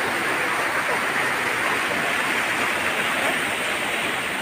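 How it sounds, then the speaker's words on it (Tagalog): A clean river flows in a steady, broad rushing wash that stays even and constant for several seconds, with no talking over it. "Medyo maganda-ganda ang ilog yan"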